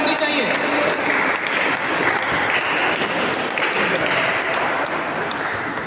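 An audience applauds at a badminton state championship ceremony in Gujarat, a dense, steady clapping that fills the hall for the full stretch, with a voice talking over it.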